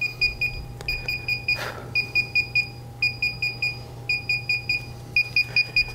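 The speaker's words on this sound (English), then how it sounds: "So it's going to beep for approximately 10 minutes during this process." Repeated high-pitched electronic beeps from a DJI Phantom 3 drone remote controller during a firmware update come in quick clusters with short pauses, continuing steadily above a low background hum.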